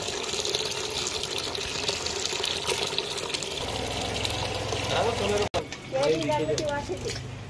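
Water runs steadily from a leaking tap or pipe in a neighbourhood of Akola with a contaminated drinking-water supply, a continuous rushing hiss mixed with a low engine hum, voices and street noise.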